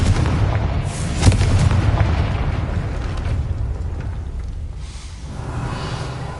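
Confringo spell blasts in the video game Hogwarts Legacy, heavy booming explosions with a sharp hit near the start and a sustained low rumble that slowly fades.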